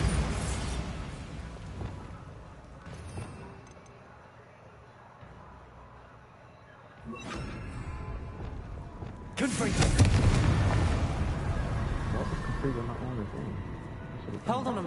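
A Bombarda blasting spell detonates in the game Hogwarts Legacy, a loud broadband burst with rumbling tail that follows a quieter stretch with a short blast earlier, with a voice speaking over the game sounds.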